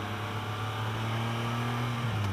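A 2015 Can-Am Spyder F3-S engine holds a steady, loud, buzzy drone with a raspy, metallic growl, then dips slightly in pitch near the end.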